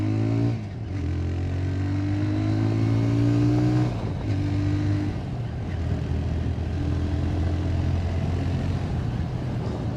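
TVS Raider 125 motorcycle pulling away under acceleration, its exhaust droning and rising in pitch through gear changes, loud and steady with brief dips between gears, no talk.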